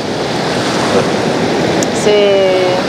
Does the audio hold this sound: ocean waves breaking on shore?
yes